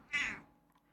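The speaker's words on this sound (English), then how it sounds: "Is that a cat?" A pet cat named Panda gives a single clear meow close by, rising then trailing off, with no talk over it.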